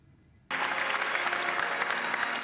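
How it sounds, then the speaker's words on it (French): Sudden, sustained applause breaks out from a large crowd inside the Great Synagogue of Rome for Pope Francis's first visit, a dense, steady clapping that continues without a break. "Applaudi longuement pour sa première visite dans la grande synagogue de Rome."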